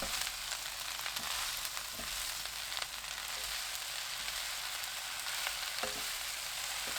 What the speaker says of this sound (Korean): 배추, 어묵 넣고 2분 볶아주세요.